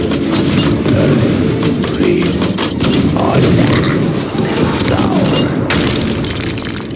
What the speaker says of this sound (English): Fire the cannons! Fire everything!